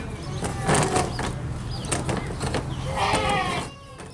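A goat bleats a few times in a cartoon-style scene, the wavering cries rising over a busy layer of background sound, fairly close and clear, with one longer bleat near the end.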